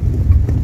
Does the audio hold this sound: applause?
no